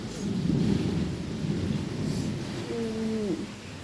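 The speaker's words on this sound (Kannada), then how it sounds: "ನೆನ್ನೆ ಮತ್ತು ಇವತ್ತು ಎರಡು ದಿನವೂ ಮಳೆ ಬರ್ತಾ ಬರ್ತಾಯಿದೆ" Steady rain falls with a deep, rolling thunder rumble underneath that persists throughout, and a brief tonal whistle, like a bird call, rises near the end.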